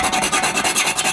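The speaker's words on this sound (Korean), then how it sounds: "여기 좀 갈아 주셔야 돼요." A cut sink pop-up rod is filed with sandpaper or a file, giving quick, even back-and-forth rasping strokes up close, alone and fairly loud.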